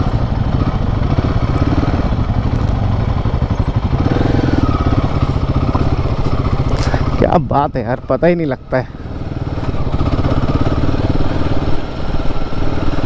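Two Royal Enfield Himalayan 450 motorcycles riding off-road, a steady loud engine drone with a brief rough burst midway, while a rider talks over the noise.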